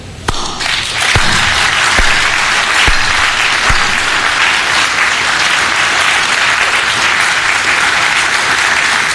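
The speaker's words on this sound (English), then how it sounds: "And let us applaud." An audience applauds at a live-streamed official ceremony, with dense, steady clapping filling the whole stretch at high volume and no talking over it.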